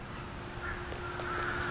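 A large flock of crows caws repeatedly outdoors, the calls scattered and somewhat distant over a constant background hum.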